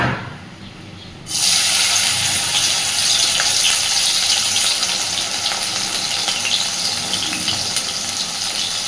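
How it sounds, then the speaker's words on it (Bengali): Cornflour-coated soybean chunks hit well-heated white oil in a wok, bursting into a loud, continuous sizzle after a brief quieter moment, then holding a steady hissing roar close by with no voices. "এবার আমি সয়াবিনটাকে একটু ভেজে নেব।"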